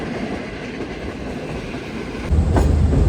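Green Line passenger train in Pakistan rolling steadily on rails, a continuous rumbling clatter of wheels that grows louder and heavier near the end as the train slows on its approach.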